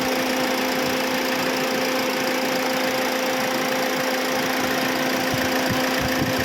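A vehicle engine idles in good condition, a steady, even drone with a constant low hum and fine rapid vibration running unchanged throughout, with no talk.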